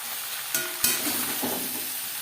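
Ridge gourd and potatoes stir-frying in a pan over high to medium flame, a steady close sizzle with a couple of sharp scraping knocks from the spatula.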